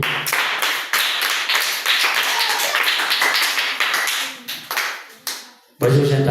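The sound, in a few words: audience applauding a young talent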